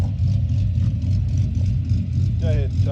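Pontiac G8 with an LS2 V8 idles after warming up, a loud steady low rumble with a rhythmic lopey cam chop throughout, with brief faint chirps near the end.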